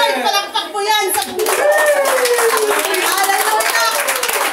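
A church congregation at an online worship service in San Mateo, Rizal, claps together in a loud, continuous burst of close applause, with voices, including a child's, mixed in.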